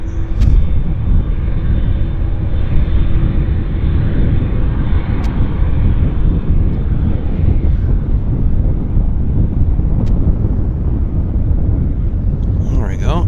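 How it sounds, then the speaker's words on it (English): An Air Canada airliner, a heavy jet on Flight 7 to Hong Kong, taxis out at Vancouver airport, its steady engine roar continuous and fairly loud under wind buffeting on the microphone throughout. "This is Air Canada Flight 7 to Hong Kong, actually. Taxiing out."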